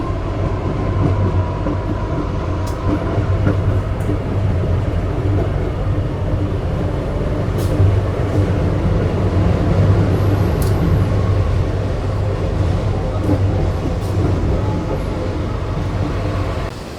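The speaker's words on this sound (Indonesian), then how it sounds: "kereta api Srivila telah tiba di stasiun Tebing Tinggi" Sribilah Utama passenger train pulling into Tebing Tinggi station in Indonesia, heard from inside as a loud, steady low rumble with rail clatter and occasional faint squeals throughout.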